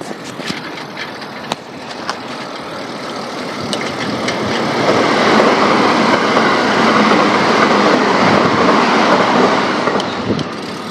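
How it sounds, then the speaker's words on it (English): A JR train rumbles past nearby, its noise swelling to a loud, steady roar with rhythmic clicking of wheels on rails, then easing slightly. "Here comes a JR train."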